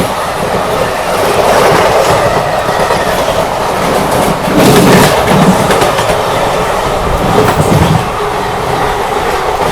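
Mahabodhi Express at speed passing through Chunar Junction on the main line, a steady loud roar of wheels and rolling stock with rhythmic clickety-clack and swelling rumbles, no talk.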